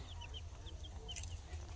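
Soft, scattered clucking and peeping from small chicks drinking water on a winter morning, close by and quiet, with a steady low rumble underneath.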